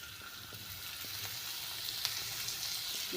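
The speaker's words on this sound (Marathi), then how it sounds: "आता ह्याला आपण मस्तपैकी परतून घेते" Chopped onions fry in oil in a pan with a steady, close sizzle and a few soft stirring clicks, no voices.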